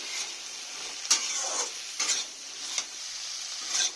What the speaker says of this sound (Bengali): ভালো করে আমি সব মশলা অ্যাড করে দিয়ে এখানে মিশিয়ে দিলাম